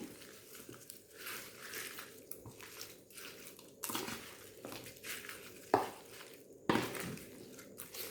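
A spoon stirs tempering through gooseberry (amla) pickle in a metal vessel, giving a run of wet scraping and mixing strokes with a couple of sharper clinks against the pot, close by and with no voices.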